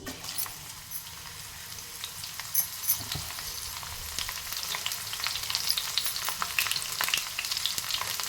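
Garlic frying in hot oil for a tomato chutney crackles and sizzles continuously up close, with fine bright spatter and occasional stirring scrapes. No voices are heard.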